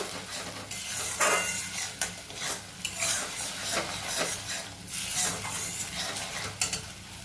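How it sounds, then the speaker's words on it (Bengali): Chana dal fritter curry stirred in a pan, a steady run of scraping and rubbing strokes over a low simmering sizzle with occasional utensil knocks against the metal, close and moderately loud with no talking. "এইভাবে ভালো করে নাড়াচাড়া করে নেব।"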